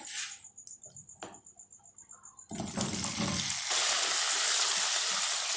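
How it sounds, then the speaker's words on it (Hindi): Ginger and potatoes frying in oil for an egg and potato biryani, a soft crackle at first, then a loud, steady sizzle that swells and holds to the end. "ये हम जिंजर को और पोटैटो को फ्राई कर रहे हैं।"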